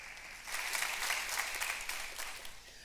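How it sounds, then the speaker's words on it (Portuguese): Church congregation applauds the Lord in a brief burst of clapping that swells in after a short pause, fairly faint and somewhat distant, then tapers off. "Você pode aplaudir ao Senhor?"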